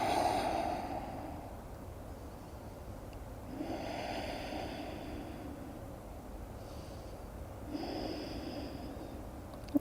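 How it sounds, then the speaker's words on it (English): Long, slow breaths during a yoga stretch, with three or four drawn-out inhale and exhale cycles, close and soft, with no talking. "Nice long breaths here."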